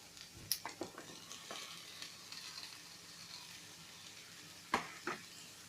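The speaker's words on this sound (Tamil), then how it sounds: "இப்போ இதில் குடமிளகா போட்டு வதக்கிக்கலாம்" Capsicum sautés in a pan with a soft, low sizzle, broken by a few sharp clinks and scrapes of stirring near the start and again near the end.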